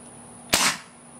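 A Crosman 2300KT air pistol fires one sharp, loud, close shot outdoors, a single crack with a short decaying tail over a quiet background with a faint steady tone.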